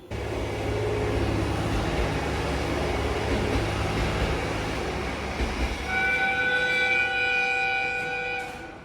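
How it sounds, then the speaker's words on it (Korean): A train pulls into platform 2 at a station in winter Hokkaido, Japan, a loud sustained rumble of wheels and rails that ends with a steady high brake squeal as it slows. "2号月台列车即将进站，请不要靠近月台边。"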